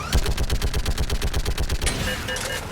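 Rapid automatic gunfire from weapons in the video game Mass Effect 3 rattles in a fast, even stream of sharp shots for about two seconds, then gives way to lingering electronic tones and effects.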